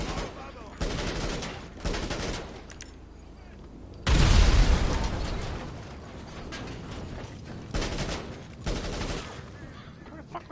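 Gunfire in GTA Online during a mission, with several loud bursts of shots and mechanical clatter among quieter stretches, one heavy volley standing out midway.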